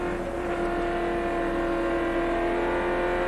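Stock race cars roar around the track in the 1995 Auto Palace 150, a continuous loud engine drone with steady pitch and no pauses, sustained throughout.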